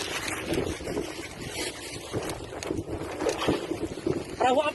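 Hiu 01 patrol boat underway during a joint search and rescue operation at sea: an engine and hull noise under heavy, gusting wind buffeting the microphone, with faint voices in the background.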